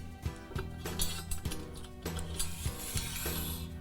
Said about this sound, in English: and we'll slide it into the open T-slot